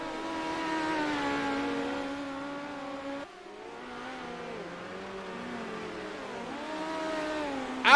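Race cars scream through the final lap of a race, engines holding high sustained pitches that dip and rise as they pass, loud and continuous before a sharp burst at the end.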